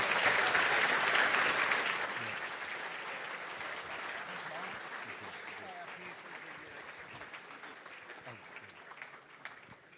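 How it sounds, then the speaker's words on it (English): Audience applause at a Melbourne Mining Club event in London, dense clapping from a large crowd that starts loud and gradually tapers off over ten seconds, with faint scattered voices underneath. "one more round of applause for Graham Kelly, who sat there and answered"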